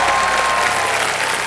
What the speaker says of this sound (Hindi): जोरदार ताली बज जाए एक बार